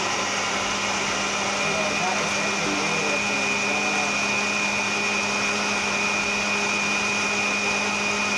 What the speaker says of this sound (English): I'm going to switch my blender on